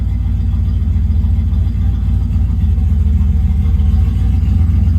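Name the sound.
engine idling steadily at 800-900 RPM, standalone EFI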